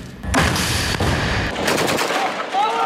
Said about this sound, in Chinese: 或是躲在建筑物里开枪